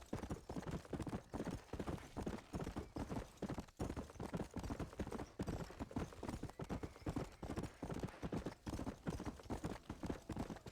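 Steady, rhythmic clip-clop of horse hooves trotting close by in the video game Red Dead Redemption, continuous and fairly loud throughout with no talking.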